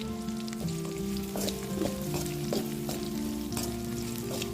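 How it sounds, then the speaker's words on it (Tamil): Onions and chillies sautéing in a pan for a spicy garlic chutney, a steady close sizzle with light crackles and occasional stirring scrapes running throughout. "வெங்காயம் மிளகாயில வதங்கிருச்சு"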